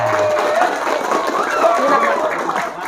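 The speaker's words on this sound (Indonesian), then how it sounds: "kita harus memberikan anak ini aplaus, tepuk tangan" Children in a classroom-style gathering clap together in brisk, continuous applause, close and fairly loud, blended with crowd noise.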